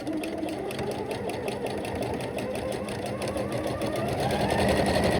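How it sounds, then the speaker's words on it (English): A sewing machine runs steadily and fast, stitching a seam in stretch fabric for boxer shorts, its dense rapid needle clatter continuous and close for the whole stretch. "As I sew, I gently stretch to keep everything flat."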